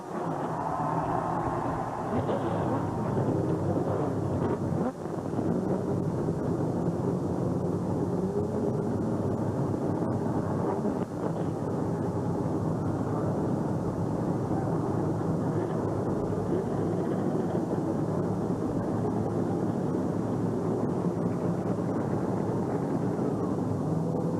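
Stock car engines fire up at Talladega for the 1997 DieHard 500, forming a loud, continuous roaring rumble of many motors that swells early and then holds steady throughout.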